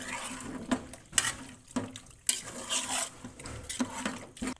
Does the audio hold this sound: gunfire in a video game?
no